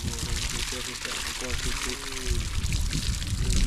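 Water pours steadily from a solar-powered borehole pump on a farm under strong sun, a continuous splashing gush that stays loud throughout, with a voice talking over it.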